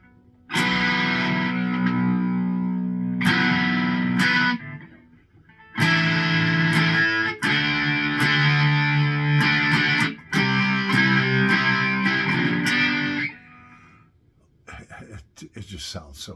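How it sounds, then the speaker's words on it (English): An electric guitar played through distortion and effects, loud sustained chords in several bursts with short breaks between them, ringing out alone before some quieter picking at the end. "Man, is that a beautiful guitar or what?"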